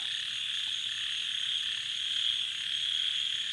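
Frogs caught with frog traps and hooks croak in a continuous, high-pitched chorus that holds steady and fairly faint throughout, with no talking.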